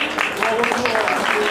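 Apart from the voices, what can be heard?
audience applause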